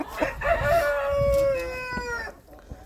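A chicken in a backyard coop gives a drawn-out crowing call with a few short clucks around it, close and clear, with faint movement noises.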